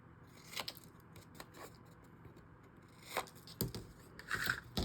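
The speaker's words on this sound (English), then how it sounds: "Let's go ahead and cut off our corners." Scissors snip off the corners of a paper craft sheet, a few quiet, crisp cuts and rustles spaced apart in a calm room.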